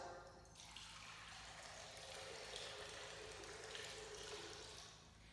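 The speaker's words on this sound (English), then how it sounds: "He took this basin and put water in it." Water pours steadily into a basin with a continuous soft splashing rush, close and fairly quiet, tailing off at the end.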